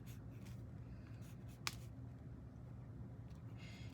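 A pencil sketches facial features onto a handmade collage, giving a soft, close, steady scratching that runs throughout with one brief sharper tap midway.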